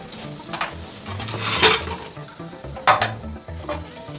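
A spoon scrapes and stirs free-range scrambled eggs in butter in a pan, with soft sizzling and a couple of louder scrapes against the pan, close and without talk.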